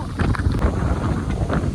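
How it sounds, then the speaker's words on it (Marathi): Strong gusty wind with rain buffets the microphone outdoors in a continuous low roar; no distinct raindrops stand out. "पाऊस वारा आहे"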